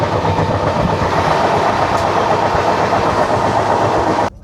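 Howrah Ahmedabad Express rumbling along the rails, loud and steady with rhythmic clickety-clack from the wagons, heard from close by and alone until it cuts off at the end.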